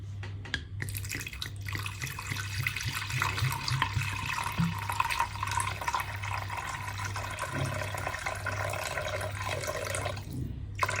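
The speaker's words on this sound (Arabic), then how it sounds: "وهذا غنزيدو الماء نديرو ليها الماء الكافي اللي غطيب فيها الدجاجه" Water poured steadily into a cooking pot over chicken being made with dghmira, a continuous close splashing and trickling stream lasting throughout with no talk.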